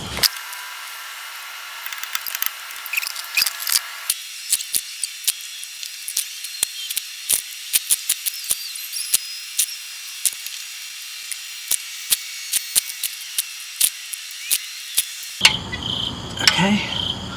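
Torque wrench tightening the 12mm oil pan bolts on a 2005-2010 Hyundai Sonata 2.4L, with sharp clicks spaced irregularly over steady background noise and a brief rustle at the end.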